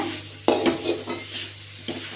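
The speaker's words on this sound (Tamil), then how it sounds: "இந்த மாதிரி நல்லா கிளறிக்கிட்டே இருங்க" A couple of quick scraping strokes of a utensil against a pan while cooking shrimp thokku, fairly quiet, with a soft background hum and no talking.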